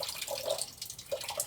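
Water trickling and dripping from a slightly opened tap, used to mimic a leaking pipe; several close, distinct drips land over a steady faint running trickle, with no talk.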